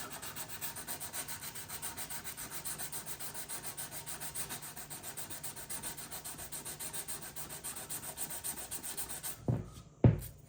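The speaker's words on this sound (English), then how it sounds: "let's go back to the emery board and let's see how it does" An emery board rubs rust off a snowboard's surface in steady, rapid back-and-forth strokes, a continuous close scratchy rasp that holds for about nine seconds before stopping with a couple of sharp handling knocks.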